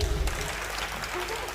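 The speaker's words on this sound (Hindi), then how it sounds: "ज़ोरदार तालियां ऑडियंस।" An audience applauds at a televised music show, a brief burst of dense clapping mixed with crowd noise that quickly settles into a steady patter.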